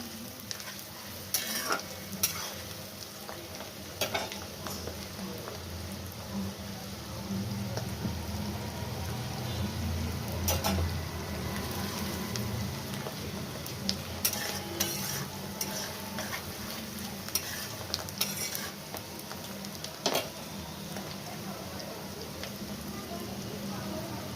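Chopped garlic sizzles steadily in a hot pan while making pav bhaji, a continuous frying hiss with occasional stirring scrapes and clicks throughout.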